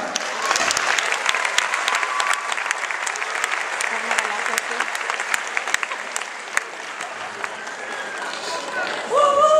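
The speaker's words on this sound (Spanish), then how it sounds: "un aplaudiment per ells" An audience at Port Aventura claps for a Down Tarragona and Wapacha dance school performance, with steady dense applause and scattered sharp claps. Voices sound underneath, and a tonal music note enters right at the end.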